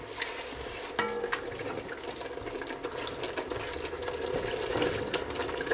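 A spoon stirs half a cup of water into a simmering lamb kofta curry in a pot, a soft continuous sloshing and scraping with a faint sizzle, fairly quiet and without talk.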